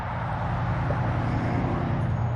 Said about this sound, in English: that noisy truck